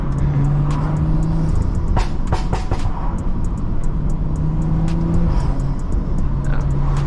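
A tuned Stage 2+ BMW drives through city streets with a loud, steady engine drone that shifts pitch with gear changes, and a quick cluster of sharp exhaust pops and crackles breaks through midway.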